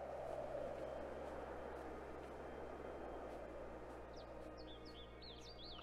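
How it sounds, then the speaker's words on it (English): Birds chirp in the video game AER: Memories of Old, a few quick, faint tweets arriving late over a steady low ambient hum. "Hello, birds."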